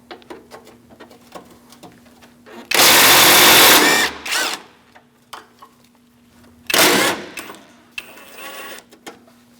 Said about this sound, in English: Using a 10mm socket, we're going to take out this nut on the driver's side and this one on the passenger side as well.